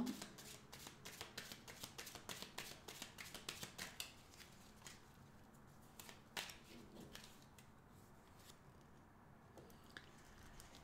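Tarot-style cards handled and drawn from a deck at close range: quick rhythmic shuffling riffles in the first few seconds, then softer occasional slides and flicks of card stock against a quiet background.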